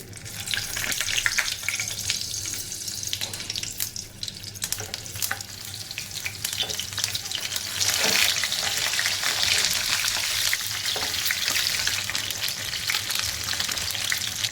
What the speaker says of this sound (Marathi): इथे पॅन ठेवले मी. याच्यात 1-1 मिरची अगदी अलगद सोडायची.